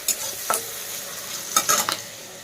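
Onions, chilli and coriander sizzle in a pan for egg bhujia, a steady close frying hiss broken by a few scraping stirs of a utensil, with no talking.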